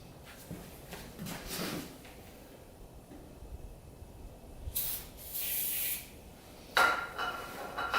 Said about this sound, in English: Sprayed some brake cleaner down there